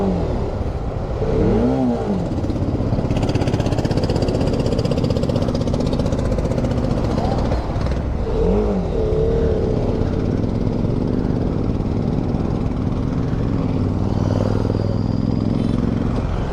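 A motorcycle is ridden with the engine running steadily and loudly throughout, with a couple of brief revving swells and continuous road and wind rumble.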